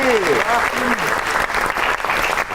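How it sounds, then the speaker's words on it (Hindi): Clapping during a backstage interview with a dancer, brief hand claps mixed under overlapping voices and laughter, close and moderately loud. "ओके, ताली ताली।"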